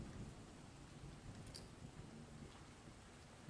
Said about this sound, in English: I'm gonna turn off our rain sounds.